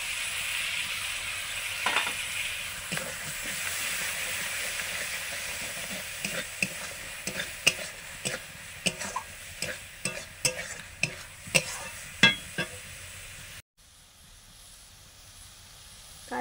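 Ginger paste and tomato frying in a pan for paneer butter masala, a steady close sizzle with repeated sharp stirring clinks and scrapes, no talking, cutting off near the end.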